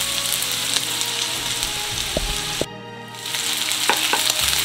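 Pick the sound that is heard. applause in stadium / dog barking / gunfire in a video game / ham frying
ham frying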